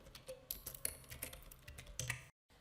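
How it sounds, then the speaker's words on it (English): Rapid clicking keystrokes on a computer keyboard while code is typed into an online compiler, a close, uneven run of light taps that ends in a brief silence. "type in print hello world."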